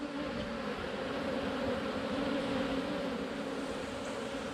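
Honeybees on a hive frame give off a steady, dense buzz that holds at an even level throughout, close by, with no voices.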